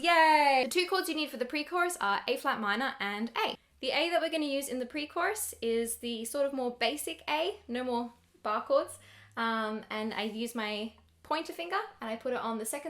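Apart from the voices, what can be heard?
No everyday noises stand out.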